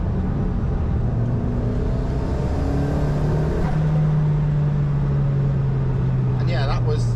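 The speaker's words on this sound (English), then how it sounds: "Nice turbo noises, again pulls well hard, pulls far harder than a 1ZZ would." A 1.8T engine-swapped Toyota MR2 accelerating hard in fourth gear from about 50 mph, a rising engine drone with turbo whistle inside the cabin, while someone talks over it.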